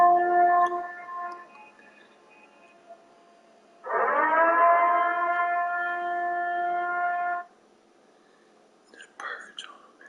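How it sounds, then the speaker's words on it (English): The Purge civil defense siren, played by Louisiana police, rises into a loud, steady tone that holds for a few seconds and then cuts off, with a quiet voice whispering before and after it. "Louisiana police apologize for using the siren from The Purge."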